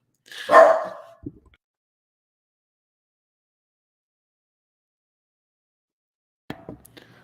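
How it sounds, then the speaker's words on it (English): A dog gives a single loud, close bark followed by a soft yip, then long silence before faint rustling at the end. "Oh, well, she's going to bark."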